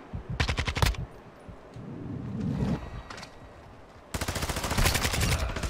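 Automatic gunfire in Call of Duty: Modern Warfare II, with short rapid bursts, a lull of distant battle noise, then a long sustained close burst.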